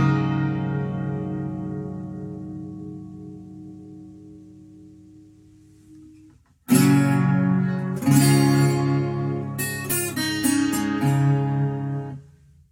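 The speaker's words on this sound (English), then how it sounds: "and I can turn on the chorus." An Enya Nova Go SP1 acoustic guitar rings out a held chord that fades, then after a brief pause is strummed again several times with a shimmering chorus effect, close and with no talking.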